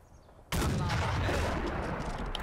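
A close, loud gunfire burst from the World War II tactical game Combat Mission, a sudden crack followed by a dense, sustained rumble of shots and echoing impact noise.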